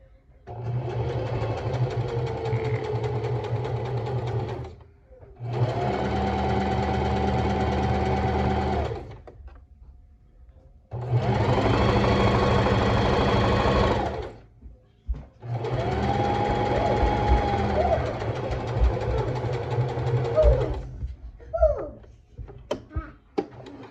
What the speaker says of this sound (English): I usually put that first stitching right here at the edge of my presser foot